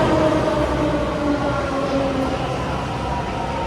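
Steady rumble of a Delhi metro train in motion, a loud continuous low drone with faint rail hum and no clear clatter, heard from inside the carriage.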